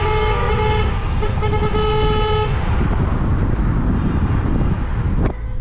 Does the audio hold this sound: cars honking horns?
yes